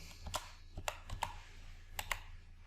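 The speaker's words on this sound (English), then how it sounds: "I type sum function." Computer keyboard typing in short bursts of crisp, quiet key clicks, about a dozen presses with brief pauses between, close by in a quiet room.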